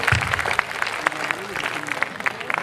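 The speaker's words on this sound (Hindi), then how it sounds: "एक बार मेरा मन है कि दादा के सम्मान में आप तालियां बजा देंगे।" Audience at a Hindi comic poetry gathering clapping in honor of an elder poet, a short burst of moderately loud applause with scattered individual claps and some crowd murmur.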